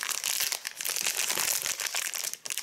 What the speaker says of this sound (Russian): Да, они вот запечатанные. Никак тебе не открою их,